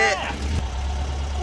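A car engine running while driving, a steady low drone heard from inside the vehicle beneath a voice.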